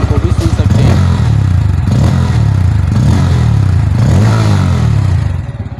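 A 2023 Bajaj Pulsar N160 motorcycle engine running loud and close, a steady throbbing idle with slight revving, easing off at the very end.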